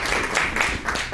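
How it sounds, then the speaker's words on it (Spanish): Brief burst of audience applause at a lecture on studying quinoa with nuclear techniques, dense and fairly loud clapping from a crowd. "Un aplauso."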